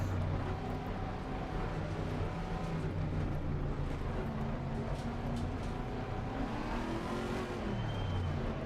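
A dense, continuous race car engine roar in the racing video game Assetto Corsa Competizione, with shifting pitch as it revs and changes gear, steady and loud throughout.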